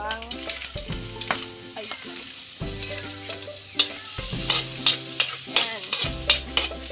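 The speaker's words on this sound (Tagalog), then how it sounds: "At ito po yung igigisa ko sa sibuyas at bawang." Garlic sautéing with onion in a pan, a steady sizzle with repeated stirring and scraping strokes that come louder and more rhythmic toward the end, while a voice speaks briefly.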